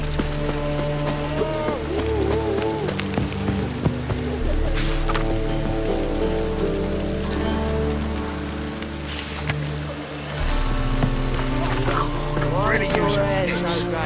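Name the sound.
rain in the video game The Witcher 3: Wild Hunt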